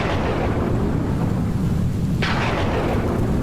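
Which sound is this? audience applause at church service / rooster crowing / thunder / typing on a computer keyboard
thunder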